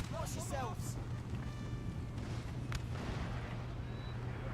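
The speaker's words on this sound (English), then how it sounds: "their cannon just killed some of their own cav" Cannon artillery fire in the Napoleon Total War video game, heard as a few distant booming shots in a steady battle rumble with scattered game noise.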